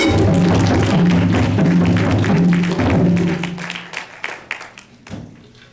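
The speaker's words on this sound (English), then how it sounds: "give a round of applause" An audience at the Atlantic City Library's 25th annual Kwanzaa celebration gives a round of applause, thick and loud at first, then thinning into scattered claps that fade away.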